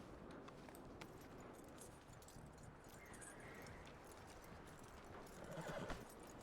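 Horse hooves clip-clop softly in the Red Dead Redemption 2 video game, with a quiet whinny and faint jangling of tack, low in level and without speech.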